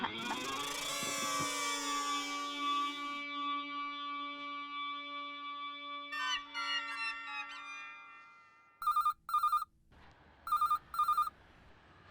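An old-style telephone bell rings loudly, followed by a falling electronic tone, then shorter repeated bursts of ringing with brief pauses between them.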